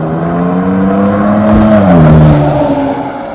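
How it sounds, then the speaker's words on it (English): Exhaust note of a 2014 Ford F-150 Tremor EcoBoost fitted with a Borla Ford Performance exhaust, a loud, close engine drone that climbs in pitch and swells as it revs, then eases off, with no talking. "this exhaust was actually made by Borla for Ford Performance"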